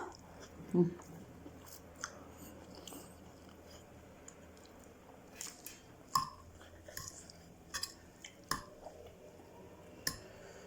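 Eating khanom jeen rice noodles with southern Thai fish curry, with faint, close chewing and soft wet squishing in scattered bursts against quiet background noise.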